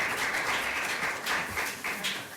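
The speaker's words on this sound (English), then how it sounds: "we appreciate the applause" Applause from a symposium audience at the close of a panel talk on living on a finite Earth, steady and moderately loud throughout, with no speech over it.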